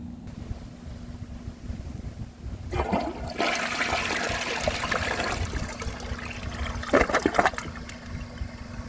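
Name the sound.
Vortens Vienna toilet flushing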